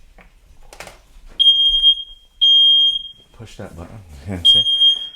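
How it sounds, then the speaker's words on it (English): A kitchen smoke alarm, set off during cooking, shrills in three piercing, high-pitched beeps spaced about a second apart, with a person speaking between them. "That's the fire alarm."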